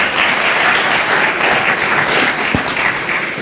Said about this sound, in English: A warm round of applause for Madam Dlamini Zuma and our representativ